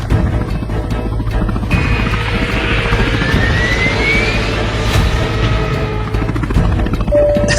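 Animated race helicopters roar with loud whirring rotor noise and engine whine, sweeping pitches and a rising whoosh passing by, dense and continuous.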